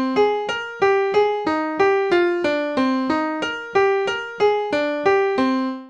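A melody in C natural minor, plucked as a string of evenly spaced single notes that each decay quickly, moving stepwise up and down at a moderate pace, clear and alone.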